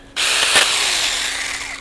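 A Saker compact tree trimming chainsaw bites into shrub branches, a sudden loud, close, high whining buzz that starts abruptly and holds steady for under two seconds with a brief harsher catch as the chain cuts.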